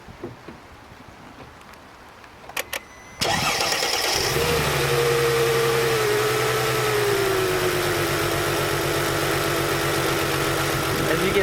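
A car engine with a failed ignition coil, running on three cylinders, cranks and fires after a few faint clicks, then settles into a loud, steady, slightly rough idle heard up close.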